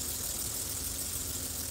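A warm BMW or Mercedes engine with K-Jetronic fuel injection idles with a quiet, even, continuous hum that holds steady without changes in pace.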